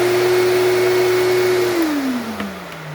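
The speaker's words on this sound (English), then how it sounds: "Boy, that vacuum's got an attitude, doesn't it there" A Dirt Devil MVP Royal vacuum cleaner's motor hums loudly and steadily, then cuts off partway through and spins down with a falling whine.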